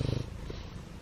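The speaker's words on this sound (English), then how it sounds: "he's purring" A cat purrs close by in a quiet room, a low rumbling stronger at the start and then softer and steady for about a second.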